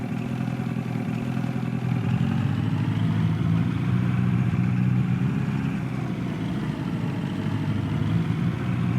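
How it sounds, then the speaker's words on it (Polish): Motorboat on a lake in Farming Simulator 22 runs loudly and steadily, a constant droning engine hum with rattly mid-range clatter throughout, close and alone with no talk. "odpalamy tą łódkę. Ona chodzi dosyć głośno"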